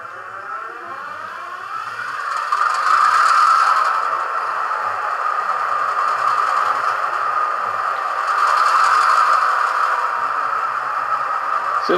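An Atlas Master Santa Fe GP38 model diesel locomotive with a Tsunami sound decoder runs, giving a loud synthetic engine drone with swelling horn-like tones and light mechanical rattle, no voices.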